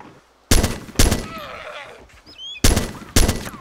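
Four loud, sharp gunshots ring out in the DayZ video game, spaced in two pairs with a quieter gap of faint birdsong-like chirps between them.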